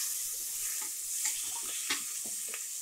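Chopped onions and green chilies sauté in a hot pan for Punjabi chole, giving a steady, bright sizzle with light stirring scrapes throughout, close and fairly loud.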